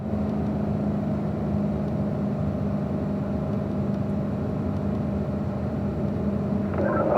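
Steady, droning engine noise from a race car running through a session, heard close with a constant low hum and no clear rise or fall in pitch throughout.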